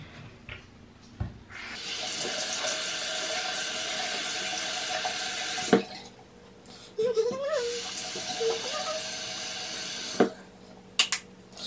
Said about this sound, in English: let me wash my face because I just took off my makeup